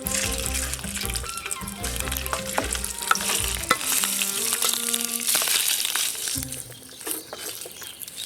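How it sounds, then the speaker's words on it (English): Shrimp frying in a little olive oil in a pan, a close, lively sizzle with stirring scrapes and clatter that settles into a softer hiss toward the end. "first I'll fry my shrimp in a little olive oil"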